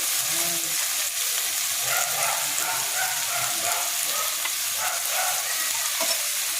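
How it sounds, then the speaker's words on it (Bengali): Potato pieces fry in hot oil in a wok, giving a steady sizzle with scraping stir strokes at intervals and no voices. "আলুটাকে একটু লাল করে ভেজে নেব।"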